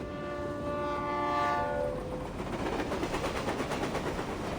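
A train in a game scene sounds a sustained two-tone horn while passing, followed by a steady rumbling clatter of wheels rolling by at close range, with no voices.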